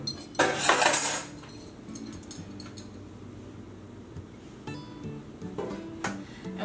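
Metal pans and cutlery clatter and clink as kitchen items are shoved aside while making keto cinnamon rolls with lupin flour, a loud burst at first, then softer scattered knocks over a low hum.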